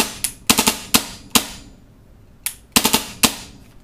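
A paintball marker with an untuned trigger fires on full auto in short bursts of sharp, rapid pops, with clustered shots separated by brief pauses, loud and close.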